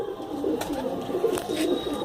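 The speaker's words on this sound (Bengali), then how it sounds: "অনেক হাইট লাইনের পায়রা আছে" Soft, low cooing of fancy high-line pigeons in Kolkata repeats in a gentle rhythm, fairly close, with faint background ambience.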